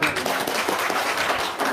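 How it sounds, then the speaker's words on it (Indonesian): An audience applauding at a religious prosperity seminar, dense broadband clapping sustained throughout at a steady, fairly loud level without a break. "Tepuk tangan dong."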